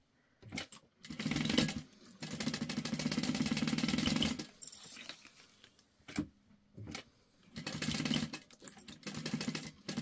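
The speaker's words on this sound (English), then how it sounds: "Okay, and then we're gonna sew those together." A sewing machine stitches tote bag pieces in a steady, loud mechanical whir during two long runs and a later shorter one, with quick clicks and handling sounds between the runs.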